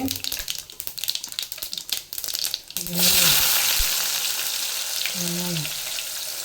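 Onion drops into hot oil with cumin and fenugreek for a ribbonfish dried fish thokku, bursting into a loud, steady sizzle after a stretch of talk and clattering.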